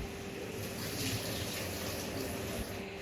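Water draining and dripping off freshly washed drumstick leaves, a steady soft trickle with light splashing, fairly close and continuous throughout.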